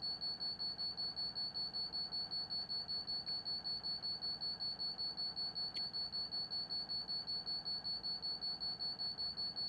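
Driver safety device (DSD) alarm in a Class 220 train cab in a train video game: a steady, pulsing high electronic beep repeating rapidly and evenly throughout, over a low rumbling cab hum.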